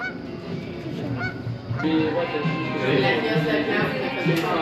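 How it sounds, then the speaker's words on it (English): Geese honk repeatedly at close range from the water at Parc Omega in Canada, a steady stream of nasal calls growing denser partway through, with people talking underneath. "Oh, there's the goose right there."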